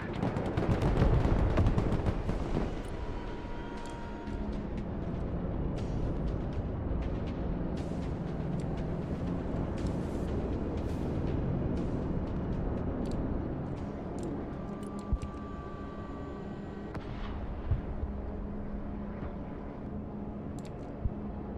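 A battlefield in Broken Arrow with a lab position under fire: a dense, rumbling bed of gunfire and distant artillery, with scattered sharp reports and later isolated cracks as the din slowly thins out.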